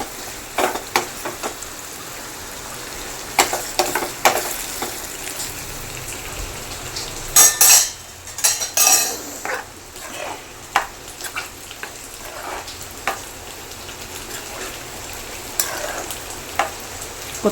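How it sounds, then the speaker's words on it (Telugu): Tempering spices sizzle in hot oil for a prawn, potato and brinjal curry, a steady crackling fry with scattered pops and a brief louder stirring burst, while rain patters softly in the background. "చారుకైతే తాలింపు అవుతుందండి."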